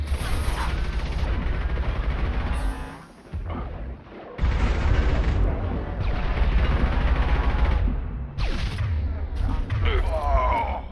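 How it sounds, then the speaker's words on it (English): Heavy gunfire in the video game Mass Effect 2 on Insanity difficulty at Freedom's Progress, with loud bursts of rapid shots, mechanical clatter and booms broken by short pauses. "Taking heavy fire."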